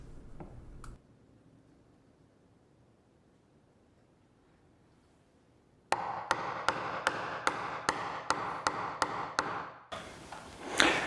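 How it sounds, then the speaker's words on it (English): Sharp, rhythmic chisel taps ring out close by as a corner is cut into a wooden picture frame, about ten evenly spaced strikes after a quiet stretch, with a couple of isolated knocks at the start. "I'm just going to bust out a chisel and chisel out a 90-degree corner"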